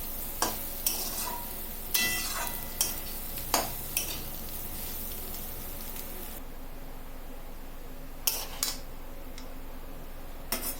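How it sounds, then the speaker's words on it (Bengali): Fried egg and vegetables for Maggie noodles scraped from a pan onto a plate, with sharp clinks and taps of a utensil against metal over a faint low hiss, then a quieter stretch and two final knocks. "সবজিগুলোকে একটা থালার মধ্যে ঢেলে রাখছি।"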